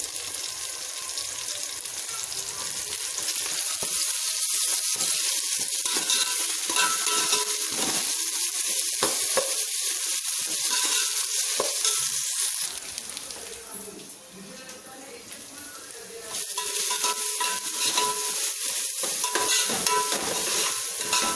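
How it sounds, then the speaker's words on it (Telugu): Ginger paste and other ingredients for moong dal khichdi fry in a pan with a steady, close sizzle and occasional stirring scrapes. The frying briefly quietens midway, then resumes. "ఈ ఇంగ్రీడియంట్స్ అన్నీ బాగా ఫ్రై అయ్యాయండి."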